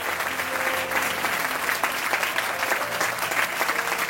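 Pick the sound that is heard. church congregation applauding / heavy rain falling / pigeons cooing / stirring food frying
church congregation applauding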